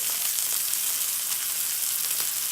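Butter sizzles and fries steadily in a hot pan alongside a steak, a continuous close crackling hiss with no talk over it.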